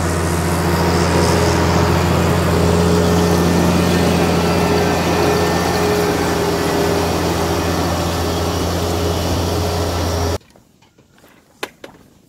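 Steady low engine drone from David Forge's 1455 tractor sowing field beans, a continuous heavy rumble heard from the cab that cuts off abruptly near the end, leaving near silence with a few faint knocks.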